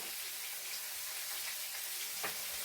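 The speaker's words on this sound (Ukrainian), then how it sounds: "Я знаєте, що люблю додавати, коли смажиться рибка, додавати трішечки вершкового масла." Fish, apparently hake, frying in a pan in a home kitchen, giving a steady close sizzle throughout with a slightly louder crackle near the end and no talk.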